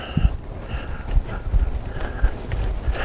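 A cutting horse's hooves clop and thud on the ground in an uneven walking rhythm, close by and fairly loud, with a faint higher call in the background.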